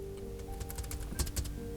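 Keys clatter on the hardware keyboard of a Supernote A6X2 in a quick irregular burst of taps, close and clear, with a few louder strikes near the end and no talking.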